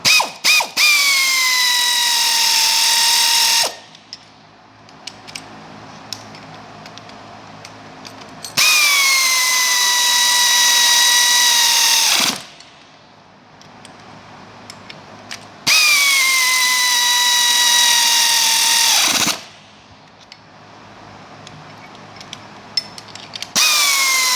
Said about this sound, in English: Using a 9/16 wrench and socket, we will tighten up the nuts and bolts.